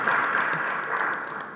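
Audience at a civil society forum in Uganda gives a short round of steady, moderately loud applause that fills the room evenly and fades slightly toward the end.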